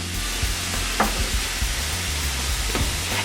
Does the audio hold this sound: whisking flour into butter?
yes